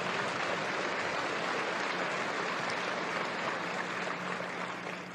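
Steady, fairly distant applause from a large audience at a corporate annual shareholders' meeting, a continuous wash of clapping that tapers off slightly at the end.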